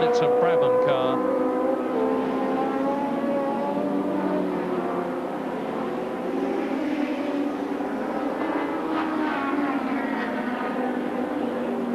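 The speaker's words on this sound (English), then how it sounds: "he's right up behind the Davina Galitza Brabham car" Race cars at the Brands Hatch Thundersports race roar past in a continuous loud engine drone that swells and fades slightly, with a commentator talking over it throughout.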